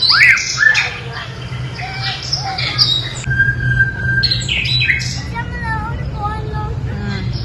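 Many kinds of birds in an aviary squawk, chirp and whistle in an overlapping chorus over a low steady hum, with voices faintly in the background.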